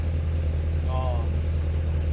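Chevrolet Corvette C7 Z06 idling with its active exhaust in quiet stealth mode, a steady low rumble holding evenly throughout, with a brief faint whine rising midway.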